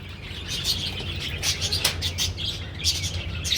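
Birds chirping nearby in short bright bursts of tweets over a low steady background rumble, with no one talking.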